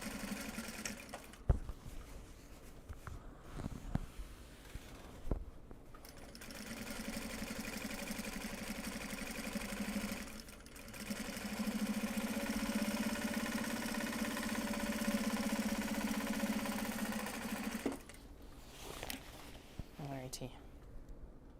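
A sewing machine stitches project bags made from Japanese fabric, its motor humming steadily through long runs with short pauses between seams, and a person talks between the stretches of stitching.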